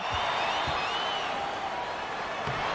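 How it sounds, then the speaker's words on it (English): A video-game basketball crowd gives a steady, dense roar of cheering and applause after a layup, and the roar stays even and loud throughout. "you gotta love hearing a crowd get this fired up"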